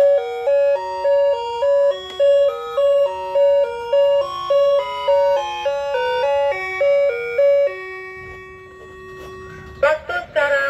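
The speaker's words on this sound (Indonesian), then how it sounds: "ketika itu langsunglah bunyi melodinya." A Maspion melody wall clock chimes at 5 o'clock, a loud steady stepped tune of bell-like tones, then a single held note fades and a few clattering sounds follow.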